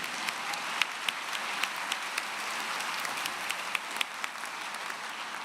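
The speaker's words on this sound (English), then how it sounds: "Let's applaud them as well." At the 2023 Humphrey School commencement ceremony, the audience applauds the presiding officials with a steady, moderate patter of many hands and a few sharper, nearer individual claps standing out.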